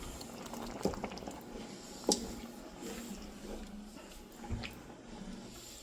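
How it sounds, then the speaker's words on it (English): Sweet red relish with corn simmers in a pot, giving faint, sparse bubbling pops over a quiet steady background. "but let it simmer down for 15 minutes"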